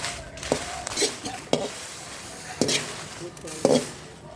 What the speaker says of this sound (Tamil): மிளகாய் வறுக்கும் போது கொஞ்சம் சிம்மில் வச்சு வறுக்கணும்.